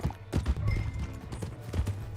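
Horse hooves clip-clop at a steady, uneven pace in Red Dead Redemption 2, fairly quiet and close, with no voices over them.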